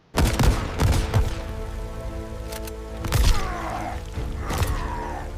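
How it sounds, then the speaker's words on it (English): Gunfire sound effects in an animated fight scene: several sharp bursts of shots spread across the clip, loud and close, with rattling mechanical and whooshing effects between them and no talking. "There is gunfire, there is hand-to-hand combat."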